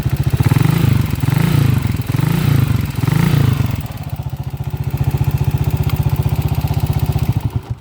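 A loud motorcycle engine with a noisy timing gear idles with a steady mechanical clatter, its rhythm pulsing through the first half before settling into an even, rattling tick.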